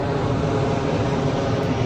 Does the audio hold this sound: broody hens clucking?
no